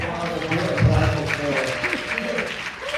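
A convention panel audience at New York Comic Con applauds amid crowd noise and overlapping voices, a continuous, moderately loud wash with chatter throughout.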